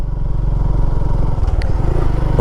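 A motorcycle engine rumbling steadily up close while shifting into second gear on a ride through pineapple gardens in the Rangamati hills, a low continuous drone with a brief clatter midway and no talking.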